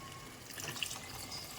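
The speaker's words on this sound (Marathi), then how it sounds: "थोडंसं गरम पाणी होतं आहे भाताचं उरलेलं हे थोडंसं त्याच्यात टाकते" Leftover hot rice water poured into a pot of chicken dum biryani, a soft continuous liquid splash and trickle lasting the short moment, fairly faint and close, with no talk over it.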